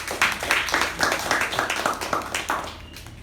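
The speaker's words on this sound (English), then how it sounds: "let us give him another good round of applause" A small Toastmasters meeting audience gives a round of applause, clearly separate claps from a modest group in a room, close and lively, fading out toward the end.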